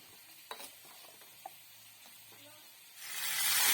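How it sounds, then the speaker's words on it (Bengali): Marinated chicken with ginger, chili, cumin and tomato puree is dropped into a hot wok: a few faint taps in near-quiet, then a sudden loud, rising hiss of frying during the last second. "চিকেনগুলো কড়ার মধ্যে দিয়ে দিচ্ছি"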